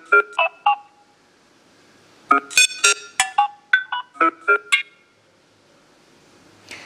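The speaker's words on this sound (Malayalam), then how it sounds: "ഇനി നമ്മൾ നാലാമത്തെ ട്യൂൺ ഒന്ന് പ്ലേ ചെയ്ത് നോക്കാം." Nothing Phone 1 ringtone, its fourth tune, playing as a sequence of crisp, loud electronic beeps in short rhythmic groups, separated by brief pauses, with no voice over it.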